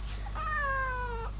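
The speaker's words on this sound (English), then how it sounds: "Look, it is everybody's favorite kitten." A kitten gives one drawn-out, clear meow, close and alone, over a low steady hum.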